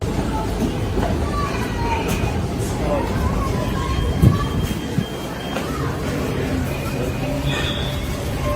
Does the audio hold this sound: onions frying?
no